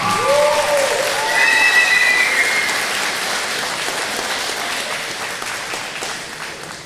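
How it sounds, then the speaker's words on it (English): A graduation ceremony audience claps for the graduating class, a dense, steady round of applause that stays strong and slowly tapers, with a few voices faintly mixed in. "Let's give the 2012 graduating class of KCEC a good round of applause."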